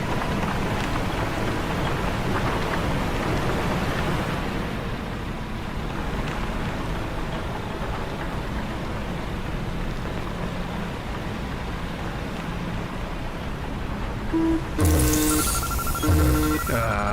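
Steady heavy rain hissing in the horror video game STASIS: Bone Totem, a dense continuous wash of sound, broken near the end by a few sharp mechanical tones.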